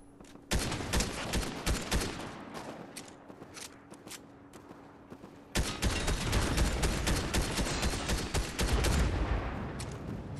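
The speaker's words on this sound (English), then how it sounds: "Keep shooting it." Sustained gunfire aimed at a tank in Fortnite squads, dense rapid bursts overlapping into a continuous barrage with heavy low thumps, loud and close, growing denser after a brief cut partway through.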